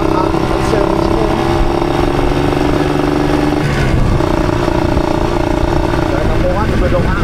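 Motorcycle engines rev and idle at a motor show, a loud continuous rumble with rising and falling pitch, while people talk over it throughout.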